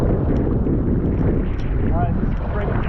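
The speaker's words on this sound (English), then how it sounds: "Rainy and windy, all kinds of stuff" Strong wind roars and buffets constantly around a fishing boat out on the water in rainy weather, loud and close, with no separate rain patter standing out.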